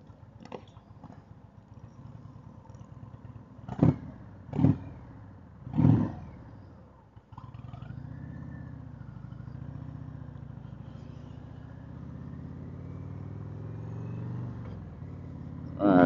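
A motorcycle engine idles and is revved in a few sharp bursts, then pulls away and runs steadily, moderately close, with no talk over it.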